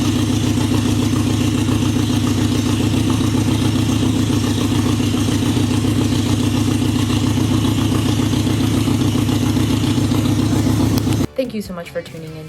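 A 2001 Harley-Davidson Sportster engine runs loud and steady at close range with a rough, throbbing idle for about eleven seconds, then cuts off abruptly into near silence.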